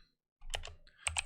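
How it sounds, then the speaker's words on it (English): Keys clatter on a computer keyboard in a few quick bursts of close, crisp typing after a brief silence, with no voice over it. "Oh wow, you can hear that typing."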